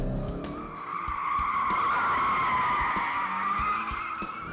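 Sustained high tire screech from a Scion FR-S sliding sideways on a track, loud and continuous, with engine roar underneath throughout.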